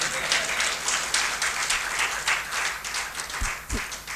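An audience at a Hindi poetry gathering claps steadily for about four seconds, a close, dense patter of many hands. A couple of low thumps come near the end.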